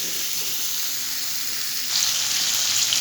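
Potatoes frying lightly in a pan, giving a steady, even sizzle close by that grows slightly louder and brighter partway through, with no talking.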